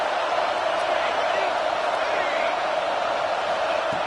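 Dense, steady roar of a football stadium crowd cheering to rally the home defense ahead of a red zone stand, a continuous wash of voices with no breaks.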